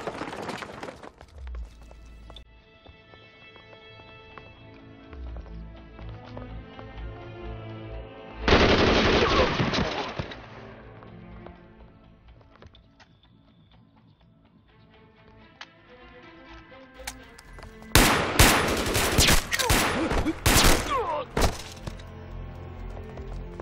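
Rapid machine-gun and rifle fire in a war-film battle between Eighth Route Army soldiers and bandits, with loud bursts around the middle and near the end and dramatic music and shouting in between.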